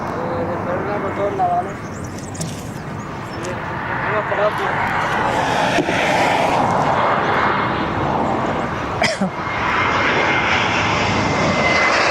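A Lufthansa jet airliner from Frankfurt arriving at Barcelona airport gives a broad, sustained roar that builds and holds throughout, with a voice talking over it.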